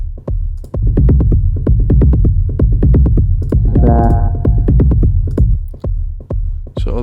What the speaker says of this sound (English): So although this kick is cleaned up now that's far too loud